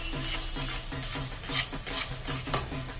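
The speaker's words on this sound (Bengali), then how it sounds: "দিয়ে একটু আমি নাড়াচাড়া করব" A spatula stirs salt and a pinch of sugar into a pan, making rhythmic scraping strokes about every half second over a constant sizzle, close and fairly loud, with no talking.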